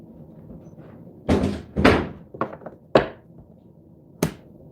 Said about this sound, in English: Can you close that door, I said?